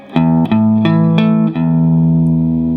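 Distorted electric guitar playing the second measure of a riff in power chords, five evenly spaced chord stabs before a sustained, ringing final chord, loud and close with no voices.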